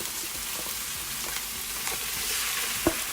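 Carrots, cabbage and broccoli going into a hot pot, a steady loud sizzling hiss with faint scrapes of stirring and one small knock near the end.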